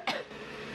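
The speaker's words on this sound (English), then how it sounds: "that's a lot of coughing" A single short, sharp cough sounds close by, then fades into quiet room tone.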